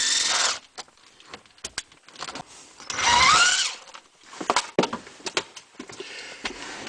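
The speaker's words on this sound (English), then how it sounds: "We're going to remove the screws to the steering column to give us access to this module." A power screwdriver whirs in short bursts, with one longer run, while the screws come out of a car's steering column cover; clicks and handling noises fall in between, close up with no talk.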